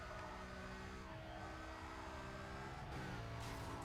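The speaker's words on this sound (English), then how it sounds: "This is the Lamborghini Murcielago. And it has probably one of the best engine sounds in the game." A Lamborghini Murcielago engine from the racing video game Need for Speed Carbon hums steadily and loudly throughout, with shifting tonal layers hinting at revs changing near the end; no speech over it.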